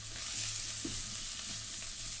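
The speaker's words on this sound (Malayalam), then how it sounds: "ചട്ടിയിലേക്ക് ഞാൻ വെളിച്ചെണ്ണ ഒഴിച്ചിട്ട് സവാളയും പച്ചമുളകും ഇട്ടിട്ടാണ് വഴറ്റുന്നത്" Sliced onions and green chillies sauté in coconut oil in a pan with a little ginger and garlic, giving a steady, close, even sizzle with occasional stirring scrapes and no talk.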